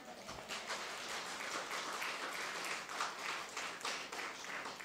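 A church congregation claps for the Lord during a Filipino worship service, a dense, steady patter of many hands clapping together at moderate distance.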